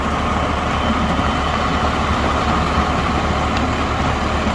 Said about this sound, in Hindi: लो के पहले गियर में चल रहा है ट्रैक्टर